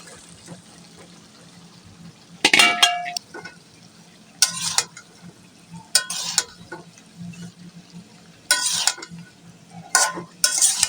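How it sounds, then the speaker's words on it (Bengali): Broccoli is stirred with fried spices, potatoes and tomatoes in a pan, several separate bursts of scraping and sizzling a second or so long, close, with quiet gaps between. "উল্টিয়ে পাল্টিয়ে কষানো মশলাটা ব্রোকলির সাথে মেখে নেব"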